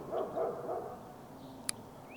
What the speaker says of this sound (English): those barks are not Raven's barks